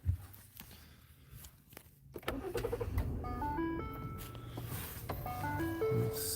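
Someone gets back into a car on a snowy day during delivery driving. A few thuds and rustles come first, then the engine starts and idles nearby while electronic dashboard chimes repeat.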